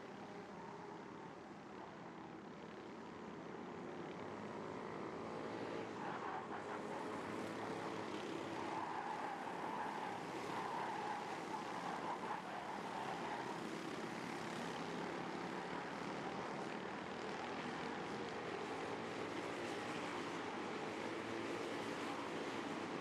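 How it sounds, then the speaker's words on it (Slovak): A four-stroke T4-category racing kart engine drones at Steelring Třinec, a deep, growling, continuous roar that stays steady and somewhat distant throughout with no talking. "toto je taký hlbší, vrčavejší zvuk. Je to spôsobené tým, že je tu štvortaktový motor"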